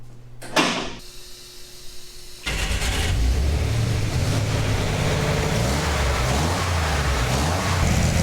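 A car's engine starts after a door thunks shut and a brief crank, then settles into a loud, steady, somewhat rough idle running close by.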